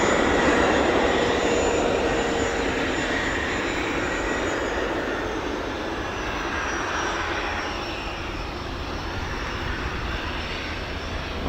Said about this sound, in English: Classic training aircraft.